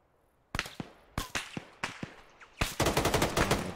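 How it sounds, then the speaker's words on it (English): Gunfire in Arma 3 coming from behind: scattered sharp single shots at first, then a rapid sustained burst of automatic fire, loud and close. "Taking fire from behind."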